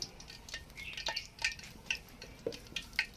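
Spoonfuls of dahi bhallay batter drop into hot oil, producing faint crackling and bubbling with light metallic spoon clicks and ticks scattered irregularly, quiet and close.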